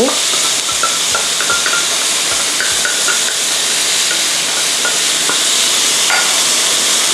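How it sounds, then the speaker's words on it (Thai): Pork ribs with lemongrass and seasoning are stir-fried in a hot pan, producing a loud, constant sizzle and hiss of steam, with repeated scraping and stirring knocks from the utensil throughout, and no talking. "นี่ก็ผัดให้เข้ากันนะคะ"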